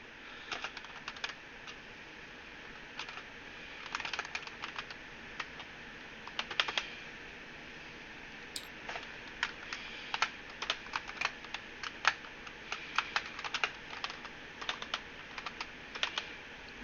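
Rapid, irregular clicking of a computer keyboard being typed on, close by, in quick bursts with short pauses.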